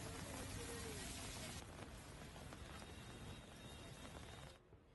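Heavy monsoon-style rain pours down in the lake city of Udaipur as a steady, even hiss. The downpour is fairly faint and continues without pause.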